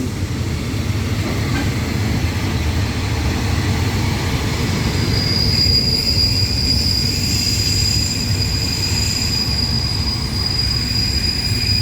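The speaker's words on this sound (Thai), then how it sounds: "เสียงเบรก" A train rolls past a level crossing in Thailand loudly with a steady rumble, and a high-pitched squeal of brakes rises partway through and persists to the end.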